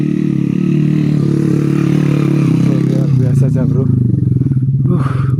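A motorcycle climbing up a mountain road holds a steady, loud engine drone throughout, with people talking over it in the second half.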